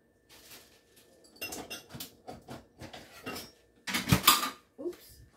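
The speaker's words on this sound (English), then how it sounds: "Let me get a spoon so I can stir them up." Crowder peas and butter beans stirred with a spoon in a pot: a run of clinks and scrapes of metal against the pot, growing louder and busier toward the end, close up.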